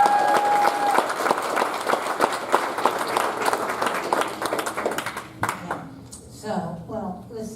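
A church congregation claps and cheers loudly at a recovery gathering, with whoops and scattered shouts over sustained clapping that thins out near the end as voices carry on.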